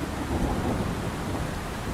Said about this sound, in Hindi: सुबह आसमान में बादल छा गए और तेज बारिश शुरू हो गई।